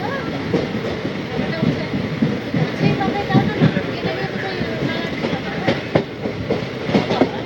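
Ganadevata Express, train no. 13017, rolls into Rishra station with a steady, close rumble and rhythmic wheel clatter from the carriages, a faint murmur of voices beneath.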